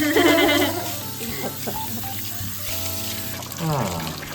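Warm water from a shampoo basin tap runs over hair at a Japanese hair salon, a steady close hiss and splash heard under talking voices.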